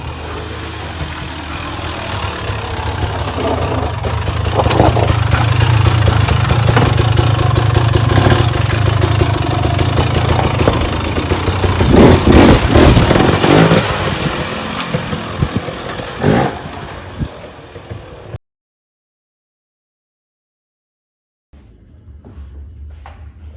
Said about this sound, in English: this weekend was the first ride on the KTM, the 2023 KTM 300 XC